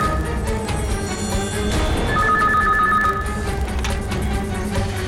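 A telephone rings in a single clear trilling burst in the middle, close and distinct, over a steady low background hum with no speech.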